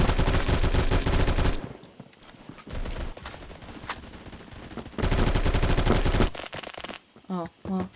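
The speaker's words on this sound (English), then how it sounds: "So that's the Colt LMG for you. That's how you use it." Colt LMG machine gun fire in the Roblox game Phantom Forces: two long sustained bursts of rapid automatic shots, loud and close, separated by quieter game sounds and faint clicks.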